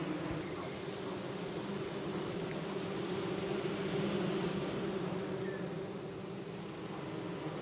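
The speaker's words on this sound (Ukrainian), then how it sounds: "а ще деякі бджілки прилітають у вулиці" Honey bees drone in a steady, dense buzz at an apiary, a continuous close hum that holds at an even level throughout with no voices.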